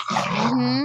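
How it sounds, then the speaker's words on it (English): A dog growls and whimpers in a drawn-out, strained vocal over about a second, fairly loud and close, with a person murmuring briefly underneath. "Is that dog? That is a dog."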